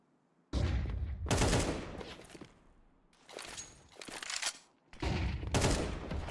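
Pistol gunfire in a Counter-Strike match between PARIVISION and ENCE: sharp bursts of shots arrive in several clusters separated by brief lulls, loud and close, with no talk over them.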